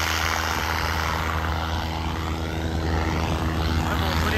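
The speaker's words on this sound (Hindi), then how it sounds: "अब वही बहुत बढ़िया ट्रैक्टर चला रखा देख लो भाई" A steady, loud rumbling drone comes from a 50 HP John Deere 52 tractor engine working hard during a tractor pulling contest in Jhajjar, with a rough low-pitched throb that holds constant.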